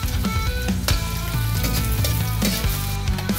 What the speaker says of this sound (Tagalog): Igisa natin ang bawang.